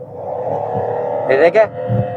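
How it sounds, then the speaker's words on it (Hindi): A Suzuki Cultus with a slipping clutch revs steadily as it accelerates in heavy road traffic, the engine drone holding under a brief higher whine near the end; a voice is present in the background. "शोर इंजन का आ रहा होगा आपको।"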